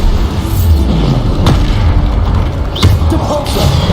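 Bombarda spell explosion from the Hogwarts Legacy video game: loud, continuous low booming rumble with sharp blast transients near the middle and late in the stretch, no speech.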